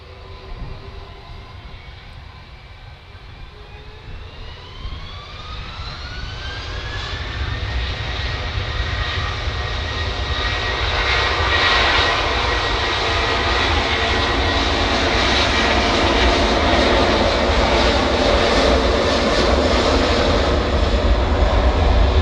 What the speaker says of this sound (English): Next out we've got the Turkish Beast, Airbus A330. Going back to Istanbul.